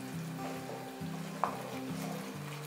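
Spices sizzle and are stirred in a hot frying pan for Amritsari dal tadka. A steady close crackle of frying runs throughout, with one brief sharp scrape of the spoon partway through.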